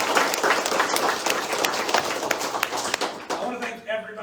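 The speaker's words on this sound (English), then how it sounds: "Let's give her and her whole staff a big round of applause." Audience applause at a governor's bill-signing event, a crowd clapping fairly loudly with scattered sharp claps, mixed with voices and fading toward the end as someone begins to speak.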